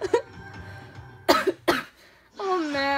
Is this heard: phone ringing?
no